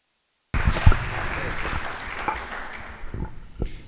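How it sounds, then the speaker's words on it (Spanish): An audience at a conference applauds to welcome a speaker, the clapping starting abruptly after silence, then thinning and fading out over a few seconds in a reverberant hall. "Lo recibimos con un aplauso"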